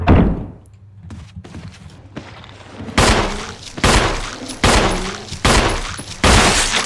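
Gunfire rings out in the Resident Evil HD Remaster game on hard difficulty, with a quiet opening followed by a series of loud, evenly spaced shots or impacts, each sharp and close.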